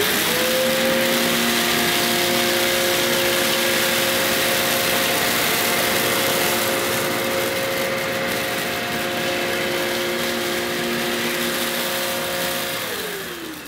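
A Hoover Enigma upright vacuum cleaner runs on setting 3 with a steady, loud motor whine and a constant tonal hum, tapering slightly at the very end.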